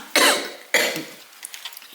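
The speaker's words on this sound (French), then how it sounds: "Veuillez m'excuser, ça tousse." Two sharp coughs close to the microphone, about half a second apart, followed by quiet, faint rustling.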